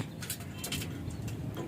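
Soft pigeon-like bird calls, faint against a steady background hum, with a few scattered ticking sounds.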